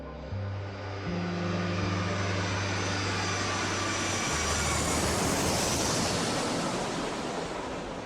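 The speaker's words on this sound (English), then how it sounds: "Japan Airlines Flight 123 takes off at 6:12 p.m." The Japan Airlines Flight 123 airliner takes off with a loud, steady roar of engines that builds and stays broad and powerful. A low droning tone runs underneath early on, and no one speaks.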